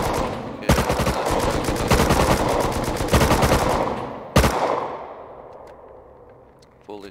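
Rapid automatic gunfire from the video game Rust, loud bursts of shots over several seconds with a final sharp burst before the echo fades out.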